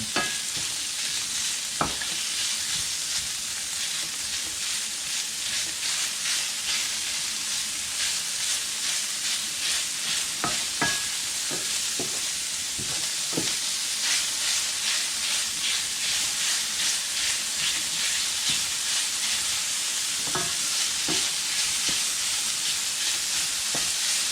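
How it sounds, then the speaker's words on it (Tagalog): Ground pork sizzles and fries in a pan until golden brown for a stir-fried eggplant dish, a loud continuous hiss with intermittent stirring scrapes and clicks. "Kailangan yung ground pork, itong ating giniling ay magiging golden brown."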